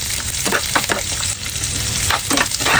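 Onion sizzles and fries with garlic in a pan, a steady loud hiss with a few stirring scrapes, no voices.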